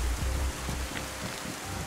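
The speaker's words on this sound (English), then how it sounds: "Get out of the rain?" Rain falls in the DayZ survival game as a steady, dense hiss with low rumbling underneath, fairly loud and unbroken.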